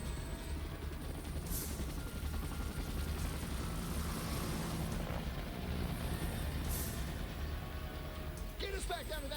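A helicopter in the video game Dead Rising, its steady rotor and engine drone filling the scene, with brief whooshes and effects layered on top and a voice breaking in near the end.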